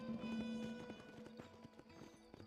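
Horse hooves clip-clopping in the video game Red Dead Redemption, a quiet steady rhythm of hoofbeats with a faint whinny and soft game background sounds.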